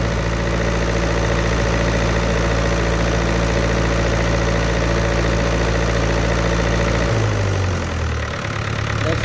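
A Miller diesel welding machine engine runs loud and close, holding a steady idle drone before its speed drops and shifts automatically near the end.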